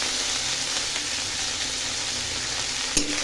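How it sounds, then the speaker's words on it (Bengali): Garlic and chili tempering sizzles in hot oil in a home kitchen, a steady soft crackle with a brief sharper clink near the end, no voices. "লঙ্কা আর রসুন ফোড়ন দিলাম"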